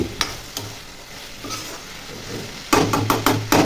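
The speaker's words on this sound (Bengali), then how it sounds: "উচ্ছে আর আলু ভাজা করছি," Bitter gourd and potato fry in a pan with a low steady sizzle, broken by sharp scraping stir strokes that grow busier and louder toward the end.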